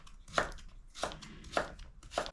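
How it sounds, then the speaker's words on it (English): Five medium-sized carrots are chopped with a knife on a board, four crisp, evenly spaced cuts ringing out close and clear with no talking. "I've got 5 medium-sized carrots that I'm chopping."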